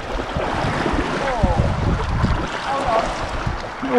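Sea water washes and sloshes around a kayak on the coast near St Cwyfan's Church and Aberffraw, a broad rushing surge with wind buffeting the microphone, close and fairly loud.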